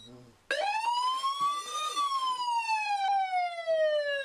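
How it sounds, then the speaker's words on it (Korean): An IoT fire detection system in a guesthouse sounds an urgent, loud electronic alarm: a wailing tone that rises and falls steadily. A brief voice is heard just before the alarm starts. "긴박한 경보음이 울림과 동시에"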